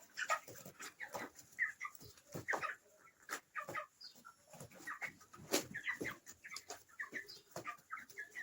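Broiler hens about 25 days old feeding, giving a close, busy stream of soft clucks, chirps and pecking sounds, irregular and overlapping, with no talking.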